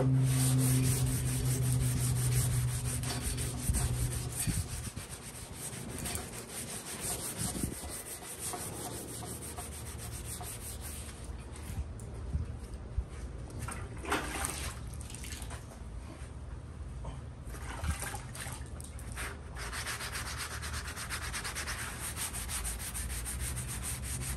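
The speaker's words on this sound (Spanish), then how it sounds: "Ok, vamos a lijar. Vamos a usar esta esponja grado 600, ¿vale?" A well-worn grade 600 sanding sponge rubs over base paint in steady, close, scratchy strokes that run continuously and grow slightly quieter after the first few seconds, with no talking.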